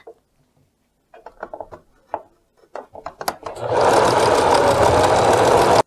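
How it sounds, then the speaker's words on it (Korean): A sewing machine with a worn needle stitches a hotel-style two-pleat curtain, starting after scattered fabric handling knocks and then running as a loud, steady, close mechanical whir. "계속해서 박겠습니다."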